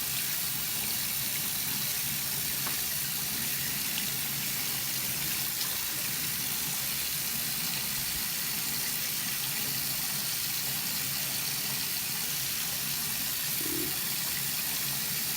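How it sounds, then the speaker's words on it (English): Tap water runs steadily while a Real Techniques makeup sponge is rinsed of soap and foundation, a loud continuous close gush with no pauses. "I am pushing through the excess water and any soap and foundation that's in there"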